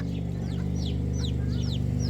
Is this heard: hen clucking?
yes